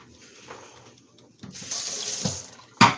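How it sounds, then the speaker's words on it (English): A sink tap runs as something gets a quick rinse under it, starting with faint trickles before the stream opens into a steady close splash, ending in a sharp louder burst. "Let me rinse this really, really quick"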